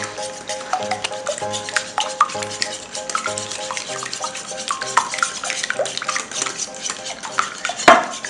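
Eggs being whisked with a utensil in a bowl for French toast, a busy wet clinking and swishing stir with rhythmic taps against the bowl, close and continuous, ending on a sharper clink.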